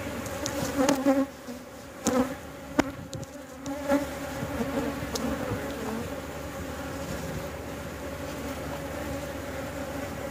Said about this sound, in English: We've got some bees coming out.